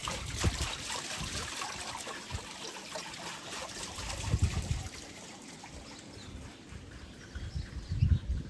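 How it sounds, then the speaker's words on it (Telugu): Water trickles and flows continuously outdoors at a Tasmanian lavender farm, a steady close rushing wash with a few louder surges and no talking. "వాటర్ కూడా ఉన్నట్లుంది."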